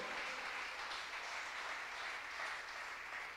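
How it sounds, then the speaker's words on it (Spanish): A church congregation applauds during a service, giving a steady, distant-sounding wash of clapping that stays even throughout at low volume. "Dele un aplauso al Señor Jesucristo"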